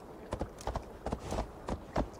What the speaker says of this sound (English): Just hearing the horse stomp throughout the baseland, man, that shit sounds really nice